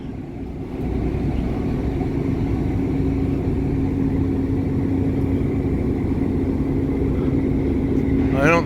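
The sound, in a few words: diesel locomotive engines of Verde Canyon Railroad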